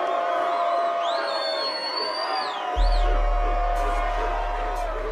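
Crowd cheering and whooping from a scene in the film Juice, a continuous roar of many voices with rising shouts, joined midway by a deep, loud low rumble that holds to the end.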